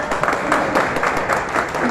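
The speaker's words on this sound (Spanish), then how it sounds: "Un aplauso" Dense clapping from an audience at a recognition ceremony in San Francisco de Macorís, steady and fairly loud throughout, with a crowd murmur underneath.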